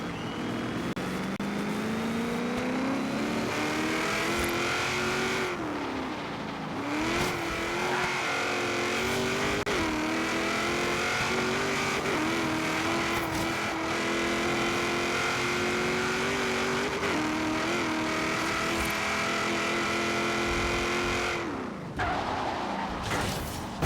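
Car engine in the Forza Horizon racing game, loud and continuous, rising and falling in pitch through gear shifts and acceleration, with brief dips at lifts and a sharp drop near the end.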